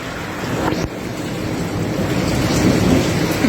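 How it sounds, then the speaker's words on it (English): Powerful hailstorm with thunder pounding the streets of Lleida, Spain: a dense, steady roar of falling ice and rain with low rumbling underneath, loud and continuous throughout. "A powerful hailstorm surprised the inhabitants of Lleida"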